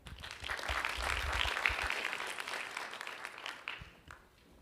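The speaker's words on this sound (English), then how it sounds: "I'd just like to give an extra round of applause for Montana" Audience applause at a conference plenary session, a dense wash of many hands clapping that swells through the middle and then tapers off toward the end.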